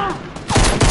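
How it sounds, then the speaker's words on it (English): Rapid automatic gunfire from a minigun in the video game Fortnite, a loud dense burst that swells in the second half of the second, with a voice briefly audible early on. "Minigun alert!"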